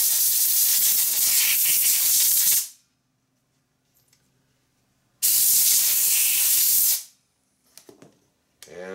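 Two loud, sustained bursts of compressed air hiss over a stock dry clutch from a Harley flathead, knucklehead, panhead or shovelhead, drying off cleaning alcohol, each lasting about two seconds with a quiet pause between and brief clicks after.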